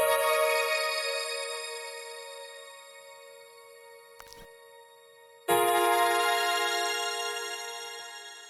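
Ableton stock piano soloed and heavily processed into sustained, buzzy tonal chords, a long fading tone broken by a brief glitchy stutter, then a loud new chord that slowly decays, with no talk.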